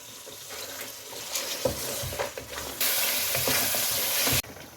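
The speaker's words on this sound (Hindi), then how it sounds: "हाफ़ टी स्पून ज़ीरा, 2 बारीक कटी हुई हरी मिर्चें और अब इसको इसके साथ भून लें।" Cumin seeds and finely chopped green chillies fry in a pot, a close crackling sizzle with stirring scrapes that swells into a louder, denser hiss before stopping abruptly.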